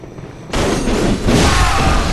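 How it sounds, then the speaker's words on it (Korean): Heavy cannon blasts in the video game Bloodborne: a loud, deep boom erupts suddenly after a quiet moment, then a second rolling blast follows and sustains, close and dominant with no talk. "저 대포 아니야?"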